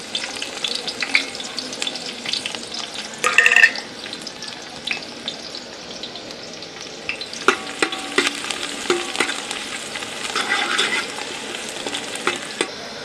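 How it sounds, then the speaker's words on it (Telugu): Onion pieces fry in oil toward golden for a chicken biryani, with a low sizzle under frequent clattering stirs and scrapes of a ladle in the pot, close by. "ఇవి ఉల్లిపాయ ముక్కలను అయితే గోల్డ్ రంగు వచ్చేదాకా వేయించుకుంటా"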